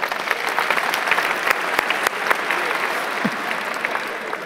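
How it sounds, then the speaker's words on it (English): Audience applause at a live Get in the Ring event in the Netherlands, with steady dense clapping from a crowd held at an even level throughout, close and full. "Let's have a round of applause."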